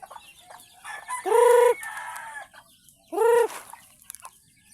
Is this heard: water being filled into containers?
no